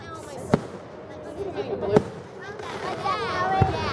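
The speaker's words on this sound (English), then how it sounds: "They had one fireworks and then it made it a double." Fireworks in Lewisville burst in three sharp, distant booms spaced about a second and a half apart, while onlookers chat and exclaim nearby throughout.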